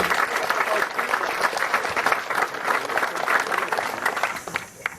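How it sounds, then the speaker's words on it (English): Audience applause at a Boy Scout camp's 80th anniversary gathering: dense, sustained clapping from a sizable crowd, loud and even across the whole stretch before tapering slightly at the end. "Let's give all of our alumni groups another round of applause."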